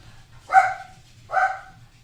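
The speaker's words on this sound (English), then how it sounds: "Dogs are barking." Two separate dog barks, a half-second apart, ring out at moderate distance over a quiet low hum, with no one speaking.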